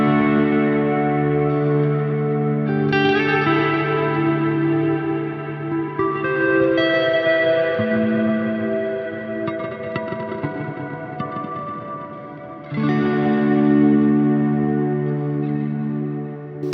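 Sustained electric guitar chords ring out through a reverb effects pedal, washed in heavy reverb, notes smearing into a long shimmering tail, with a fresh strum near the end.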